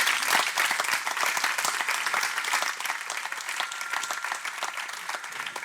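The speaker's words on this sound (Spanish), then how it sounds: "Por favor, un fuerte aplauso para ellos." Loud, sustained applause from a seated audience at a cultural talk event, dense clapping filling the space from start to finish and easing slightly in volume toward the end.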